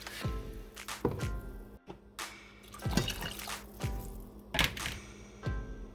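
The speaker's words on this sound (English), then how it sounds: "And then I am also going to add in 1 cup of water." Water poured into a pot of sautéed vegetables and beef broth, heard as a run of close splashing and dripping bursts at an uneven rhythm, with no talking.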